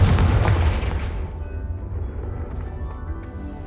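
A Confringo blast spell explodes in the video game Hogwarts Legacy, a loud, heavy boom at the start that rolls off into a long, rumbling tail with no talking over it.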